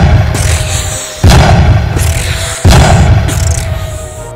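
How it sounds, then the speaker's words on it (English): Pumpkin bomb explosions in a Halloween video game: three loud, booming blasts spaced about a second and a half apart, each a heavy thud with a roaring rumble that carries on between them. "I have a pumpkin bomb."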